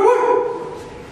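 A man imitates a dog with his voice, giving one loud, close, drawn-out bark-like yelp that fades away over about a second.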